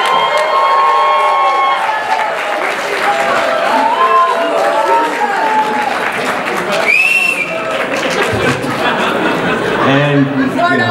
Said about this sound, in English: let's hear a big applause for the Houston crowd